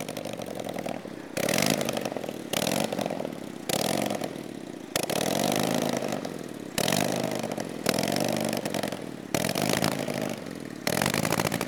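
Vintage motorcycle engine running super rich, with a rough uneven idle broken by repeated blipping revs that surge and fall every second or so, loud and close with no talking.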